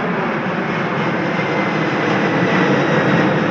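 A military Reach 488 heavy jet on its takeoff roll from runway 29, a steady, loud, broadband engine roar with no pauses or voices.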